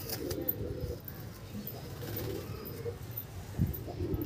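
Andhra pigeons coo in low, soft, repeated bursts at close range, with rustling and handling noises around them and a slightly louder coo near the end.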